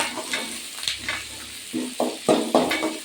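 Mustard seeds, onion, curry leaves and chilli frying in hot oil for ragi shavige, a steady sizzle broken by several close scraping stirs of a spoon in the pan.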